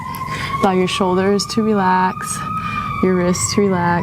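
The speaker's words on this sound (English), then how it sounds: "I'm sorry for the sirens" Wailing emergency vehicle sirens rise and fall repeatedly nearby, loud and insistent, while a calm voice keeps talking over them during a yoga class.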